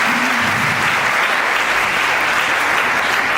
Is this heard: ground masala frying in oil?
no